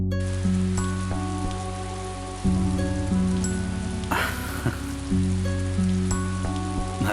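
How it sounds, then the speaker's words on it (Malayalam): Heavy rain in a Malayalam film scene pours as a steady, dense hiss that runs without a break from start to end, with sustained tonal music layered over it. "നല്ല മഴ അല്ലേ?"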